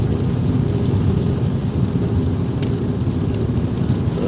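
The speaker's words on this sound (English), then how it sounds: "we got a severe thunderstorm out to our right" A severe thunderstorm in Mississippi, heard from inside a car: dense, steady rain and low rumbling fill the whole stretch at high volume, with a brief crackle partway through.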